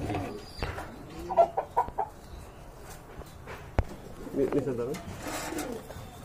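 Native Bangladeshi pigeons coo in low, rounded bursts, first in a short cluster and then again near the end, close by, with other birds and faint background voices mixed in.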